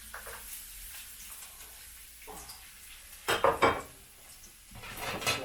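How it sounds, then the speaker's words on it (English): Garlic fries in hot oil in a pan, a soft steady sizzle with occasional louder clinks and scrapes of a utensil against the pan. "Or I might throw a piece of garlic in just to see how the temperature is."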